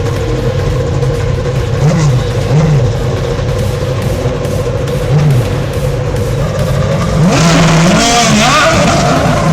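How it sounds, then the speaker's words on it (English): Several IndyCar race engines at the Long Beach Grand Prix rumble and rev together, with rising and falling whines and a louder surge of acceleration near the end, amid crowd noise. "Drivers, start your engines!"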